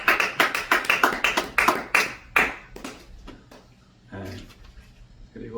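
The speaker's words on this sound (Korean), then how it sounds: "위에서 박수 한번 치겠습니다." Church congregation clapping hands at a Sunday service in New York: a run of sharp, loud, closely spaced claps that slows and thins out over a few seconds, followed by quieter background noise and a short murmur.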